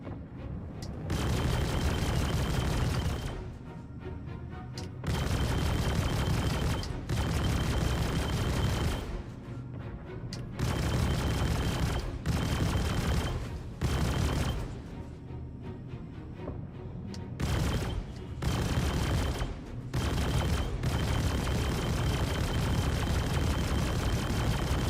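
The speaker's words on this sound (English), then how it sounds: "Oh, you're firing back at me." Sustained bursts of video game gunfire from Star Citizen as an enemy returns fire, loud and dense with rapid volleys and booms, broken by brief pauses, no talking.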